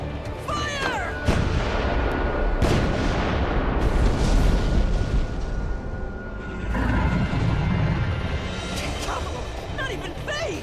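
Ship cannons fire in Rune Factory: Guardians of Azuma as loud, repeated booming blasts over a continuous rumble, with battle noise and voices mixed in throughout.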